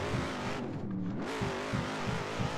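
Shelby Cobra engine in Assetto Corsa at Spa, a steady throaty roar that dips briefly as the throttle lifts, then pulses with repeated revving surges, close and continuous with no talk.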